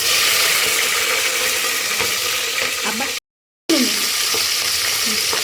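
Green chillies sizzle and crackle steadily in hot oil already seasoned with peppercorns, cloves and cinnamon, a loud, continuous fry heard up close, broken by a brief silent gap before the sizzling resumes, with no talking.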